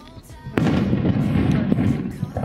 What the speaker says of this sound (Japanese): 花火ってね、すぐバーンって打ち上がってすぐ消えちゃうものなので